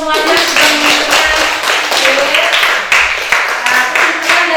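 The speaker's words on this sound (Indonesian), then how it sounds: "tepuk tangan untuk semuanya" Classroom audience clapping after a student presentation, a dense, steady wash of hand claps filling the clip with voices talking over it.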